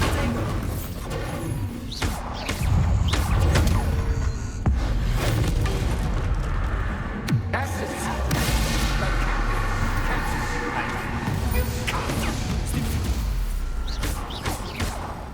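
Bombarda blasting spell explosions in Hogwarts Legacy, a run of loud booming thuds and whooshes over continuous rumbling combat noise, with a voice speaking at times.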